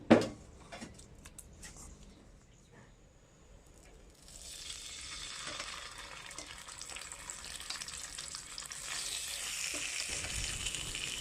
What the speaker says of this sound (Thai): ใส่น้ำมันเข้าไปนิดนึงค่ะ แล้วก็ย่างลงในกระทะได้เลยค่ะ